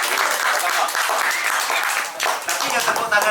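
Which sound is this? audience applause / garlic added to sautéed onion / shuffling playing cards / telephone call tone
audience applause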